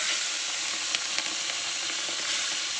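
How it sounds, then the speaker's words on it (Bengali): Prawns fry together in hot oil with a pinch of turmeric, giving a loud, continuous sizzling hiss with a few scattered spatter pops and light stirring clicks, no voices. "আর এখানে যে বেছে নিয়েছিলাম চিংড়ি মাছগুলো সব একসাথে ভেজে নেব"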